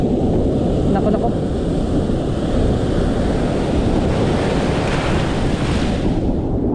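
A steady, heavy roar of big rushing ocean waves and wind buffeting the microphone at a fishing spot, continuous and loud throughout.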